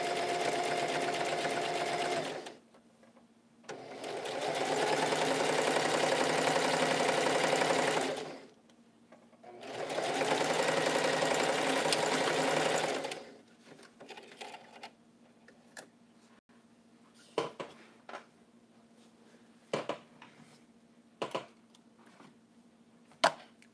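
A sewing machine stitches pants in two long steady whirring bursts, close and clear, followed by quieter clicks and handling taps with a faint hum underneath.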